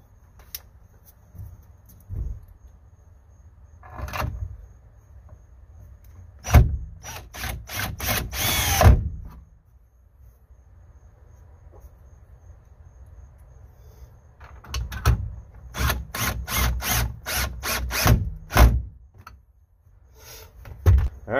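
Power tool driving stainless steel bolts to mount a boat's rotary steering helm, several short whirring bursts separated by pauses and clunks, close by with no speech.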